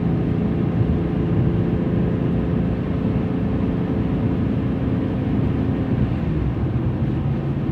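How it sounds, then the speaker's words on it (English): A BMW E46 M3 with an SMG gearbox accelerates hard in drive up to fifth gear, heard from inside as a loud, continuous low engine and road drone. "So we're on a hard acceleration here in drive. Up to fifth."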